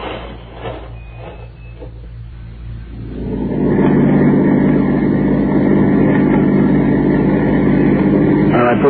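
Truck engine starting to move off, a low rumble swelling and then holding loud and steady after a quieter stretch with some clatter at the beginning.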